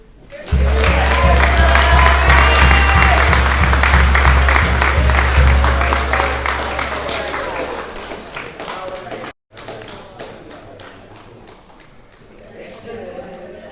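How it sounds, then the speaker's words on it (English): Mourners applaud after a performance at a funeral service, a loud sustained burst of clapping that slowly tapers off, with a low hum beneath and talking as it fades. "Can you give her again another round of applause?"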